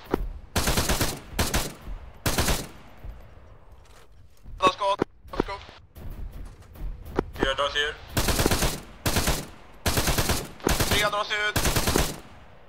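Bursts of automatic gunfire in the military shooter Arma 3, several loud rapid volleys separated by pauses, with quieter shots and clicks between them.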